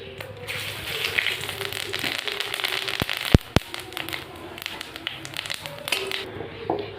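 Whole cumin seeds crackle and sizzle in hot oil while a Bengali silver carp kalia is cooked, a steady close frying hiss with a few sharp pops partway through.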